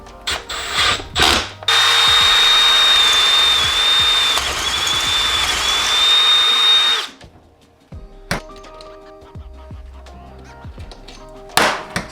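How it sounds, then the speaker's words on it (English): Power drill bores holes for transmission bolts on a 1JZ engine to RX-8 transmission swap, a loud steady whine lasting about five seconds, bracketed by brief clunks and tool handling noises. "So I'm really just gonna drill these."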